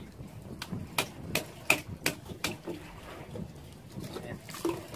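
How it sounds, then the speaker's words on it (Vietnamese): A rock strikes oysters clinging to stone in Vietnam's Mekong Delta, giving about half a dozen sharp, clacking knocks at an uneven pace, close by, amid faint outdoor background. "Giờ chơi đục bằng đá luôn mọi người ơi."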